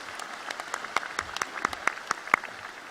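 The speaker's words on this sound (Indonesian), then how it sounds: "Kita beri tepuk tangan mereka yang meriah untuk mereka semua." Audience applause fills a leadership training meeting in Malaysia, with steady scattered clapping from a modest crowd and a few sharper claps standing out, no voices over it.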